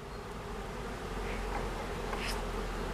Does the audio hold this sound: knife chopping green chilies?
no